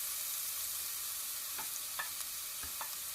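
Garlic ginger paste fries in about two tablespoons of oil in a pan, giving a steady broadband sizzle with a few brief scraping stirs near the end, close and fairly loud, with no voices.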